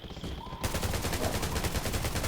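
Rapid automatic gunfire from the video game Undawn, a dense continuous burst of shots rattling loudly and close throughout.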